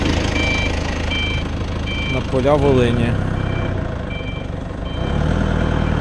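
A Dongfeng 244G2 mini tractor with a rotary tiller runs with a steady low engine drone, while someone speaks briefly over it and a repeating electronic beep sounds in the background.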